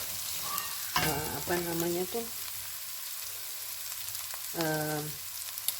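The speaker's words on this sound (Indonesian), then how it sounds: "Jadi ini saya tumis sampai mengering sedikit, baru saya masukin daging." Chili spice paste for beef rendang stir-fried in a pan, a steady sizzle with scraping stir strokes and brief tonal clinks near the start and again later.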